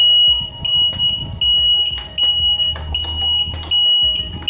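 An anti-theft motorcycle alarm with a magnet sensor sounds loud and close, repeating shrill electronic beeps in a steady pulsing pattern over low engine-like rumble, with no talk.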